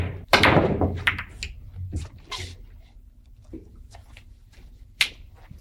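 Billiard balls clacking in Virtual Pool: a sharp cue-ball strike followed by a few lighter ball-on-ball clicks and a late crisp knock, close and fairly loud against a quiet background.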